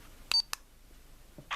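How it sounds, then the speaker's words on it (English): A children's action camera emits two short electronic beeps, then a quieter click and a brief shutter sound as it takes a still photo, close by and with no talking. "Press again, there's a beep and a shutter noise,"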